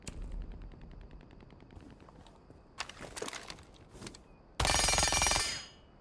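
SMG-12 submachine gun fire in Rainbow Six Siege, with short sharp shot bursts in the middle and a loud, sustained rapid-fire burst near the end over quiet game ambience.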